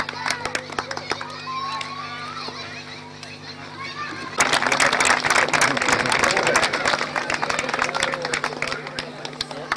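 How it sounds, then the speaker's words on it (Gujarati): A crowd at a Gujarati family gathering for Surapura Bapa breaks into sustained clapping and applause partway through, dense and loud, with talk and children's voices underneath before and during. "મિત્રો તાળીઓ ચાલુ રાખો, તાળીઓ ચાલુ રાખો."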